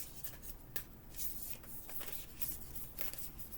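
Heart-shaped playing cards being shuffled by hand, a close, steady papery riffling and rubbing that runs for several seconds with bursts of crisp flicking, quiet but continuous and without talk.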